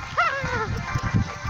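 A dog gives a single sharp, yelping bark outdoors while chasing, followed by rustling footsteps and movement noise.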